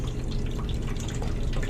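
Leftover water draining from an opened supply line into a bucket during toilet valve work at a commercial gas station restroom, a steady close splashing and trickling rush with no voices.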